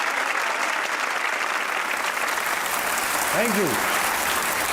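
A studio audience at a comedy talk show applauds loudly and evenly throughout, while someone briefly speaks over the clapping.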